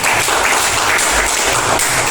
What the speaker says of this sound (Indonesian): Beri tepuk tangan untuk kelompoknya Mas Mirza.